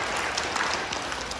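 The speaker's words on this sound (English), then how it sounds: "We give these guys a round of applause." Third-grade schoolchildren clap in a short, dense round of applause at an even level.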